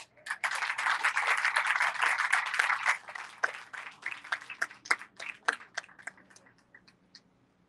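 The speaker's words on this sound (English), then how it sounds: "Let's give everyone a round of applause." Crowd applause at a public street dedication ceremony, a sustained round of clapping that swells for about three seconds, then thins into scattered individual claps.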